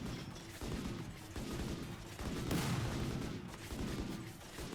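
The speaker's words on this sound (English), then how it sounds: "we'll just keep shooting for a bit longer" Sustained video-game gunfire as colonists shoot in modded RimWorld, a dense, continuous crackle of overlapping shots and blasts, loud and unbroken with no voices over it.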